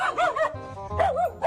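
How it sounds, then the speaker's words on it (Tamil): A dog that chased a passing vehicle near a house gives two bursts of yelping, whining barks with a short quieter gap between them, loud and close. "இந்த வீட்டு வழியா வண்டியில போகும்போது இந்த நாய் துரத்தி இருக்கு"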